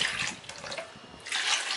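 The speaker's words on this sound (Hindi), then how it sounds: "इसमें पानी डाल देते हैं।" Water pouring from a tap into a pressure cooker holding washed medium potatoes, a steady close splashing rush that swells again toward the end.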